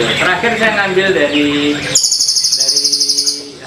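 A master songbird's recorded song played as a reference, rapid trilled and chirping phrases ringing out clearly after someone speaks Indonesian over the first half.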